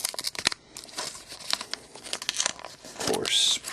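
Crinkling and tearing of the plastic and card packaging around a Marvel Universe Team X Wolverine action figure's secret files, in repeated bursts of rustling, with a longer rip near the end and talk around it.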